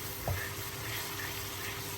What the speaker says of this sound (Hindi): और इसमें थोड़ा थोड़ा पानी डाल के हम भून देंगे ताकि अच्छे से भून जाए मसाला हमारा इस तरीके से।